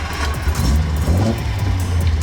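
A Datsun 240Z engine starts up close by with a low rumbling churn, its deep idle steady and loud.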